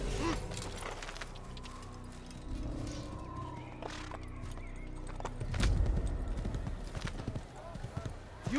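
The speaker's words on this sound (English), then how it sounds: "White horsey." Horse hooves clip-clop in the Assassin's Creed video game, a steady rhythm of hoof falls with a horse whinnying, while people talk throughout.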